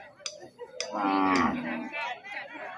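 A large mother cow at the Ban Kut Wa cattle market in Kalasin, Thailand gives one long, deep, close moo that swells and then fades, with a few faint knocks around it and no talking.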